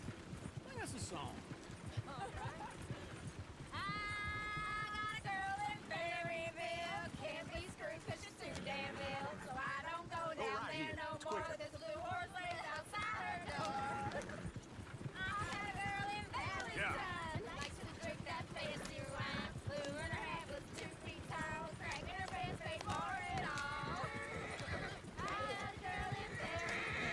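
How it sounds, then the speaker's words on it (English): Horses pulling a wagon in Red Dead Redemption 2, steady hoofbeats and rolling wheels beneath lively singing voices, continuous and close for the whole stretch. "Oui, conduite de chariot."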